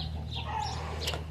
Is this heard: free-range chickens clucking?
yes